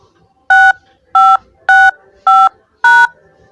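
Five loud, evenly spaced DTMF keypad tones, each a short two-pitch beep, entering a voicemail password on a phone menu, with quiet gaps between them.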